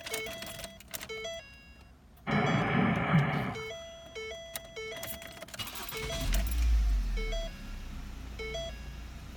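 2010 Ford Focus SES after a canister purge valve fix: door chime beeps repeat, a short cranking burst catches and the engine starts cleanly, settling into a low steady idle under the continuing chimes.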